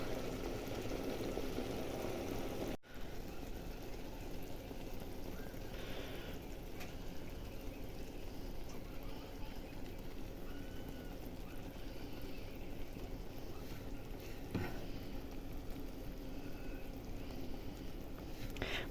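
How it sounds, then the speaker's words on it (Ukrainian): Soft, steady bubbling of boiling water in a pot, faint and continuous with no talking. "Булькає."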